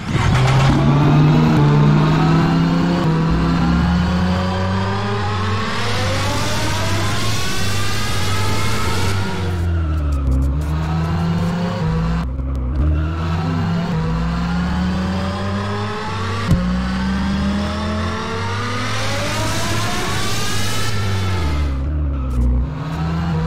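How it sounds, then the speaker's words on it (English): A Nissan GT-R in a vehicle simulator game revs and accelerates hard through repeated gear shifts, its engine note climbing and dropping in a loud, continuous sweep. "Now for the Nissan GTR. Now this thing sounds amazing."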